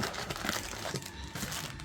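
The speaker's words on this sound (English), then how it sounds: "now that the cellophane is removed from all 3 boxes" Cellophane wrap being peeled and crinkled off Yu-Gi-Oh Rush Duel trading card boxes, a close, continuous rustle with irregular sharper crackles and no talking.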